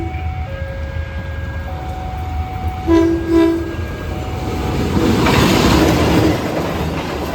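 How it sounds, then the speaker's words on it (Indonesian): The Blambangan Express from Pasar Senen to Ketapang passes with steady rumbling rail noise, while a loud horn sounds in two short blasts midway and the roar swells afterward. "Dan langsung kereta api Belambangan Express dari Pasar Senen ke Ketapang."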